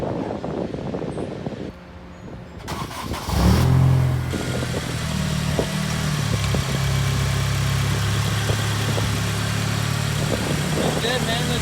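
An Acura RSX engine cranks and fires up after a tension belt change, then settles into a steady, fairly loud idle, while people talk nearby.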